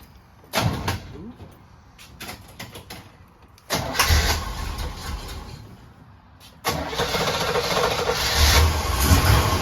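A 1963 Corvette Stingray split-window V8 cranks and catches in repeated bursts, the engine firing up loud and close, dropping back, then roaring again into a steady rough idle with a few clicks between attempts.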